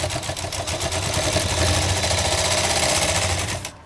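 Close sewing machine stitching a line across sleeve fabric with double piping trim, a steady fast whirring run of about three and a half seconds that stops abruptly at the end.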